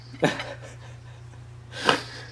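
Two short, sharp nasal snorts, about a second and a half apart, over a faint steady hum.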